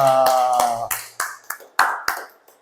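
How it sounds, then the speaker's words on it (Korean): A small church congregation claps after a prayer at the close of a Sunday worship service, giving a handful of sharp, separated claps that ring out and decay in the room. "박수 치고 마무리하겠습니다"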